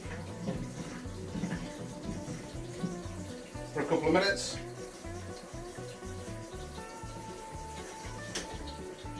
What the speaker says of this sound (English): So I'm just going to run these under hot water